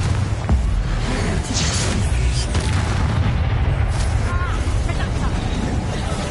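Confringo spell blasts from the PlayStation 5 game Hogwarts Legacy boom loudly in a duel. The booms roll through a dense mix of magical impacts and game effects with no pause.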